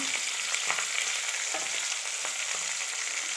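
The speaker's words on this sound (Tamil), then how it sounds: "ஸோ இது ஃப்ரை ஆகிற ஸ்டேஜில் நம்ம வெங்காயம் போட்டுக்கலாம்." Onions frying in a pan for a kulambu-style gravy give off a steady, close sizzle with faint crackles throughout, and no one speaks.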